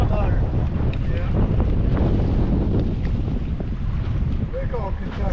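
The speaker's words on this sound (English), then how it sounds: "Wind's stronger than your trolling motor" Strong wind gusts across a lake while bass fishing from a boat at Lake of the Ozarks, a steady loud roar of wind buffeting the microphone over water slap, with brief faint voices.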